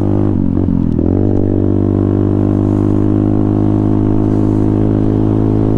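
A Venom Thunder 125cc motorcycle built by Apollo rides at speed off-road, its engine loud and close with a sustained high revving whine that dips briefly early on and then holds steady.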